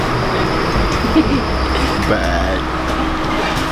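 Steady rumble of a tram riding on its rails, a continuous low roll with faint clatter throughout, while a person speaks briefly over it.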